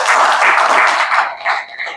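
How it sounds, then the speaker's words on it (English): An audience at a public event applauds for a government minister in a short, loud burst of dense clapping that thins and fades slightly toward the end. "I think a big round of applause for the Minister"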